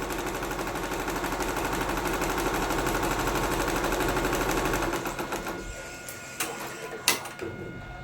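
A computerized embroidery sewing machine runs with a fast, steady mechanical chatter for about five seconds, then stops, leaving a few scattered clicks and knocks.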